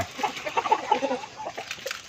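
Chickens cluck in short, scattered bursts while eating leaves and banana pith, over a steady outdoor hiss, several birds close by with no talking.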